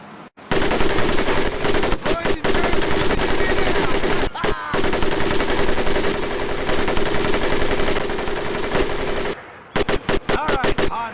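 Sustained heavy machine gun fire in Medal of Honor: Pacific Assault, a loud continuous rattling stream of rapid shots broken by a few brief pauses, with short bursts resuming near the end.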